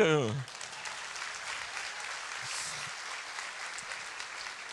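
Applause from a church congregation during a pastor's sermon, a steady dense patter that follows a brief burst of speech at the start and holds at a moderate level throughout.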